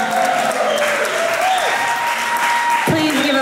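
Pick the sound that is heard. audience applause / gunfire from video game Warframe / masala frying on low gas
audience applause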